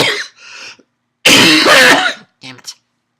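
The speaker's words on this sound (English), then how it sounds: "Get that lingering cough." A lingering throat-clearing cough in an anime episode, heard in a few short rough bursts with a louder middle burst, close and fairly loud.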